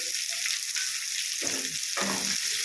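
Onions with garlic and ginger paste fry in hot oil for a prawn pulao, a constant close sizzle broken by two short bursts of a spoon scraping and stirring through the pan.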